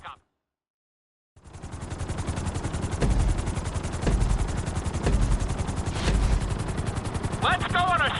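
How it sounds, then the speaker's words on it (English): Steady rotor thump and engine roar of a game helicopter, loud and continuous after a short silence, with rhythmic beating and occasional gunfire-like bursts. "we'll see how well you handle the chopper"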